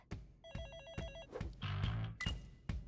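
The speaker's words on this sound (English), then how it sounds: "phone call." A telephone rings with an incoming call in the video game HiFi Rush, its electronic ring repeating in quick bursts over rhythmic game music.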